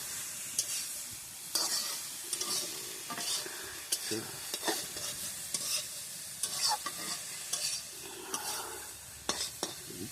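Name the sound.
stirring food frying in a pan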